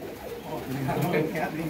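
Soft, throaty cooing of pigeons close by, several low murmuring calls overlapping, with a faint voice talking in the background.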